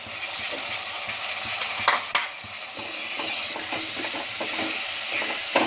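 Tomatoes and spices frying in a pan for masoor pulao, giving a steady close sizzle and hiss with scraping stirs and a few sharp clinks.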